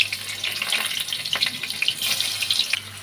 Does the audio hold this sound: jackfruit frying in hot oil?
yes